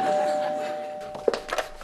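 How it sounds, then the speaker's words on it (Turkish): A doorbell rings with a sustained electronic tone, followed by a few short chimes. "kapı zili"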